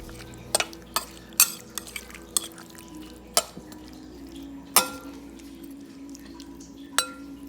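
A utensil stirs and mixes ahi poke in a bowl, making scattered clinks and taps against the bowl at an irregular pace, close and fairly quiet.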